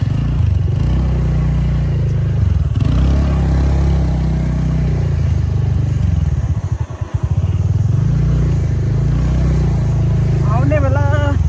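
A TVS Ntorq scooter rides an off-road dirt track with a loud, continuous engine drone and wind roar close to the rider, dipping briefly midway, with a voice breaking in near the end.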